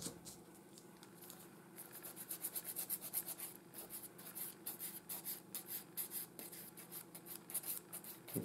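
A nail file scrapes back and forth across press-on nails in quick rhythmic strokes, a soft close rasping that speeds up partway through, quiet and without speech.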